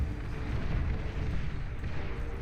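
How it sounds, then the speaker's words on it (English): Juno missiles launching in a video game, a dense, continuous low roar of rumbling blasts and booms that stays loud and steady with no talk over it. "Juno missiles finally firing."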